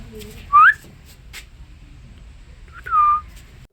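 A person inside a small man-made cave whistles two short rising notes, loud and close, with a quiet pause between them.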